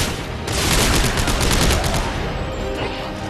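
Rapid bursts of gunfire from the sci-fi horror shooter Dead Space 3, a dense loud volley of overlapping shots and machine-gun fire that runs almost the whole time, with no talk over it.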